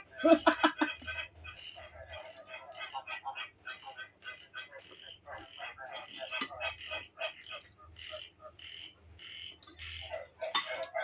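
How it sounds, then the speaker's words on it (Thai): Recorded frog and toad calls played aloud: a dense, busy chorus of rapid croaking pulses runs throughout at moderate loudness, with voices mixed in. "ก็ก็เปิดเสียงกบเสียงเกียดเต้นอยู่เนี่ย"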